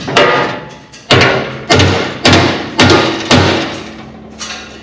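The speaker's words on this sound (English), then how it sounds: "Alright, we're gonna tap these bolts now." A hammer taps flathead bolts into a seat mount for a child's seat with about seven loud, close, ringing strikes, spaced roughly half a second apart, and a softer final tap.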